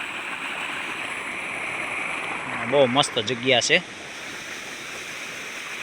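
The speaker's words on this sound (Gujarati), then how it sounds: "ધોધ અહીંથી પડે" A waterfall at the Dudhala Dada shrine in Babariya roars as a constant broadband rush, while someone speaks briefly over the falling water.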